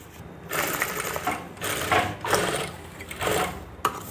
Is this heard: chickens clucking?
no